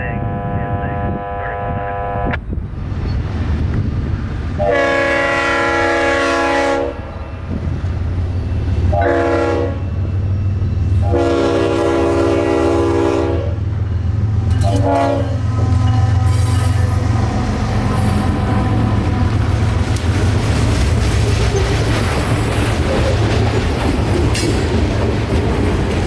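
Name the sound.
train passing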